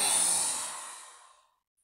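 A slow, breathy exhale during a yoga breathing exercise with ujjayi breath, starting fairly loud and fading steadily to silence, heard alone without talk.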